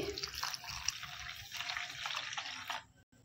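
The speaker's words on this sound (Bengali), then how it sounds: "1 কাপ জল দিয়ে দিচ্ছি" A cup of water pours into semolina in a bowl, giving a steady splashing trickle for close to three seconds before it stops.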